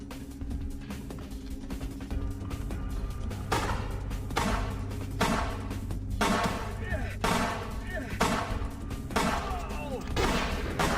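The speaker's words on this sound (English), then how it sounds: "they're shooting at me" Rapid bursts of gunfire crack repeatedly around the player in a video game, layered over a steady low rumble, with speech-like voices mixed in.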